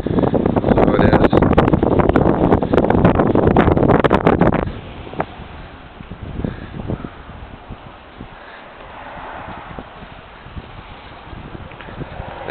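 Wind blowing outdoors beside a loch, roaring and buffeting the microphone loudly for a few seconds, then dropping to a quieter gusty rustle with occasional thumps.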